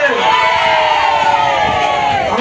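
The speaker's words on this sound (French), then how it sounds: "encouragez-le, acclamons le Seigneur" Church congregation cheering and shouting praise to the Lord, a dense, continuous roar of many voices with whoops rising and falling throughout, close and loud.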